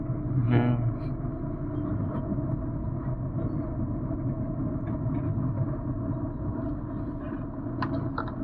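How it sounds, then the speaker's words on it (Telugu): Inside a cab in heavy Hyderabad traffic, a steady low engine and road rumble drones on throughout, with a brief tonal blast near the start and faint clicks later. Someone talks over it. "చాలా ట్రాఫిక్ ఉందండి."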